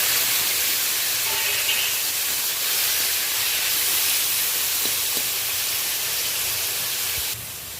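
Chopped tomato and grated onion hit a hot pan for a Bengali ridge gourd and prawn curry, setting off a loud, steady hiss of steam and sizzling that drops off abruptly at the end.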